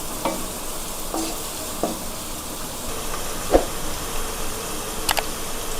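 Salted onions frying in a pan as the base for a mushroom gravy, a constant hissing sizzle broken by occasional sharp scrapes and taps of a stirring spoon, with no one talking.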